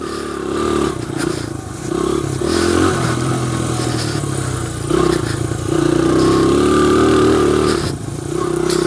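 A 2001 Honda XR100R dirt bike rides off-road, its small single-cylinder engine droning and revving unevenly with rises and dips in pitch, along with clattering and scraping from the rough ground, close and loud throughout.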